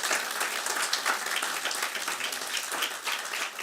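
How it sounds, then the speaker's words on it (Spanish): A church congregation applauds during a sermon. The clapping is even and sustained, heard at a moderate distance and fairly soft, with no speech over it. "Alguien denle un aplauso al Señor."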